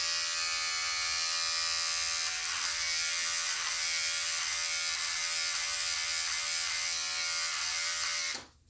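Electric hair clippers buzz continuously at close range while fading beard sideburns, a steady bright whine with slight pulsing changes in pitch as they move against the hair, cutting off abruptly at the end.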